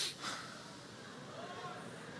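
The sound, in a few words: sniff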